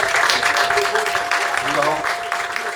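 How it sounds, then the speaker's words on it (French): Applause and cheering from an audience at a meeting, a steady broadband wash of clapping with a faint tone and voices mixed in throughout. "Beaucoup d'acclamations pour le conseil du président"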